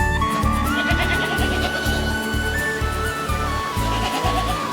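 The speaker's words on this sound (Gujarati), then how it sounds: "એ બકરીઓ બકરીઓ બકરીઓ બકરીઓ" Goats bleating loudly and close, a rapid overlapping chorus of repeated pulsing calls with shifting pitch, filling the whole stretch without a break.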